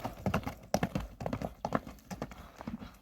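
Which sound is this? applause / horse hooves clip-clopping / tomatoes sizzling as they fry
horse hooves clip-clopping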